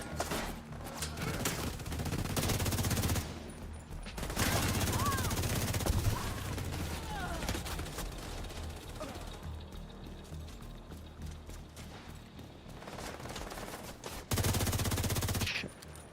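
Bursts of gunfire crackle in a Ubisoft shooter game, several loud volleys separated by quieter stretches of background game noise, with occasional talk.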